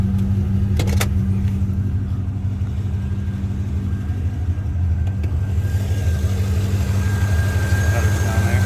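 A 2000 Chevrolet Corvette V8 fitted with headers idles with a deep, rumbling, steady throb, close and loud throughout, with a couple of brief clicks early on.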